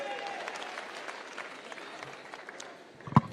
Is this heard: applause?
yes